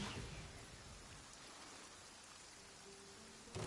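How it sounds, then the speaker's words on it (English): Steady rain in Genshin Impact hisses evenly with a soft patter throughout, no voices, with a brief louder swell at the very end. "Let us find shelter from the rain."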